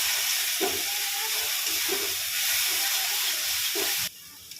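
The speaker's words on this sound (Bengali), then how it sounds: "এবার মশলাটা আমি ভালো করে কষিয়ে নেব" Spice masala with turmeric, chilli and cumin powder, salt and a little sugar fries in a pan as a steady, close hiss with soft stirring scrapes, cutting off abruptly near the end.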